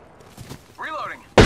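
Apex Legends gunfire: one loud, sharp burst of shots cuts in at the very end, following a short stretch of spoken voice and quieter game sounds.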